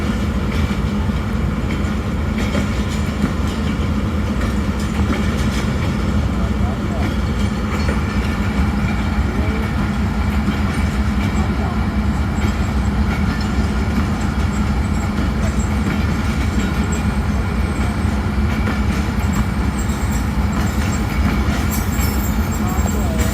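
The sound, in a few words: train locomotive idling during technical halt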